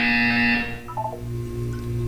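A buzzer in the game Portal 2 sounds as a bright, steady electronic tone that cuts off after about half a second, followed by softer tonal blips over a low ambient hum.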